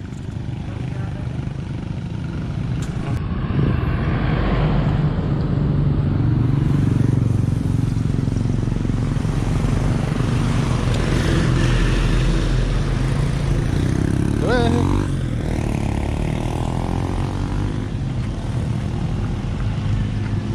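A Honda Wave 100 motorcycle with a 53mm big-bore block, 6.8 cams and headwork drones steadily at close range, its engine note rising and falling as it revs, with people talking over it.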